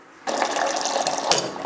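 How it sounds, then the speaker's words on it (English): Hot water gushes from the tap of a sparge water heater for homebrewing a coffee porter, starting abruptly and pouring steadily close by in a dense, splashy rush. "So I'm gonna steal some water from my sparge water heater real quick."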